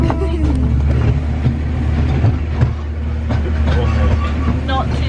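A train passes at a heritage museum, heard as a loud continuous rumble with rattling and clattering wagons; people talk over the noise.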